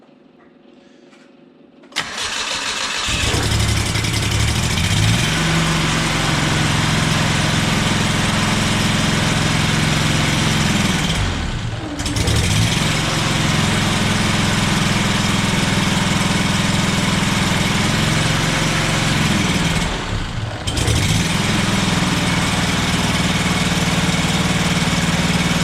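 A John Deere F932 front mower, left sitting all winter, fires up after a moment of quiet and then settles into a loud, steady idle. Two brief dips in the running sound come later.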